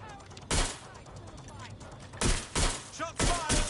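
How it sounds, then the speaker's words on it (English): Gunfire in the video game Watch Dogs Legion: loud bursts of rapid shots in several clusters, with a voice speaking between and over the bursts. "Shots fired. Shots fired."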